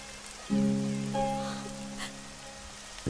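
Steady rain falls through a dramatic film scene, a soft hiss running the whole time beneath sustained music tones that swell in after a moment; no one speaks.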